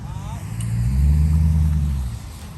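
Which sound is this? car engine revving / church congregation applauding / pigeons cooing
car engine revving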